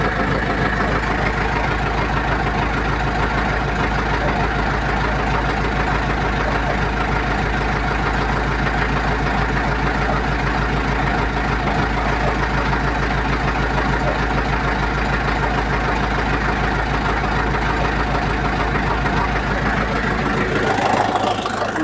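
A Jinma 404 tractor engine idles steadily at close range, a loud, even low knocking rumble that runs unbroken throughout with no talk.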